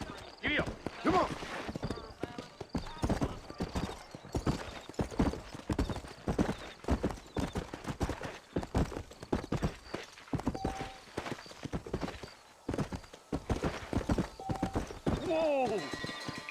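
Horse hooves gallop in Red Dead Redemption: a rapid, steady clip-clop of hoofbeats runs throughout, with an occasional whinny, while voices talk over the riding.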